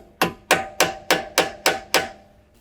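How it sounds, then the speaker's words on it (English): Seven sharp, evenly spaced metallic hammer taps drive a brake caliper pin through its spring clip on a 2019 BMW G05 X5 front brake, each ringing briefly before the next, close and loud. "Sometimes you need a hammer to just keep tapping it through."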